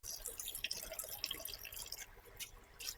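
A thin stream of water pours and trickles steadily for a few seconds into coconut and green chillies for grinding, close by, with light splashing and no voices.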